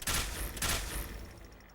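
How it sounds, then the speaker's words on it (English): Plasma rifle fire from a hardpoint on Tau-styled power armor in Fallout 4: two loud, bright energy bursts in quick succession, each with a hissing tail that fades out. "the plasma rifle setting for the weapon system, which will give the hardpoint you selected the appearance of shooting plasma balls"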